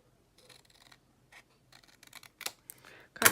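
Scissors snipping through paper in a few short, close bursts with pauses between, cutting a straight line up the center of a sheet toward a corner for a papercraft pattern.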